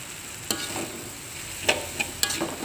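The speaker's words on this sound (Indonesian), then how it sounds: "Kita kembali aduk hingga tercampur rata semua bahan." Fried kwetiau noodles with spring onion are stirred in a pan over a soft steady sizzle. A few distinct metallic scrapes and clinks sound close by, with no talk.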